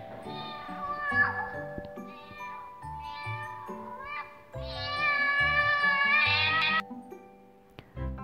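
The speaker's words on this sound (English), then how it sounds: "A cat lives in a cat tree." A cat meows repeatedly and loudly, with several drawn-out, wavering cries including one long yowl near the end, heard close and without any talk.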